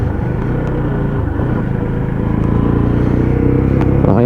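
Lexmoto ZSB motorcycle engine on a test ride, a steady close-up drone that builds slightly toward the end, loud and continuous with no talk.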